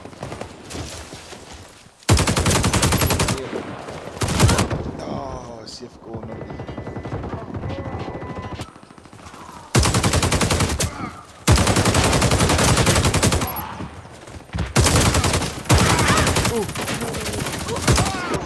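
Light machine gun fire in a video game battle, loud sustained automatic bursts that start and stop several times, with people talking in the quieter gaps between them.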